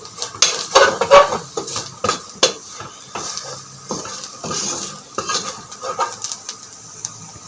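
Kurma masala being stirred and sautéed in a pan for a Kerala kurma curry, with repeated clinks and scrapes of a spoon against the metal pan in an uneven rhythm, fairly close and clear, with no talking.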